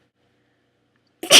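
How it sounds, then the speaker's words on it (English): A single loud, close sneeze bursts out suddenly at the very end after near silence, with no talking around it. "Hold on, I gotta sneeze."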